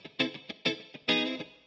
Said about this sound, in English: the direct sound is much louder than the reverb sound